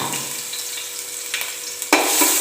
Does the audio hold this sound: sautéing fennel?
yes